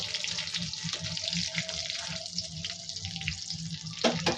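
Chicken cutlets and momos frying in hot oil at home, a steady broadband sizzle with bubbling crackle running throughout, fairly close, with a brief louder clatter near the end and no talking.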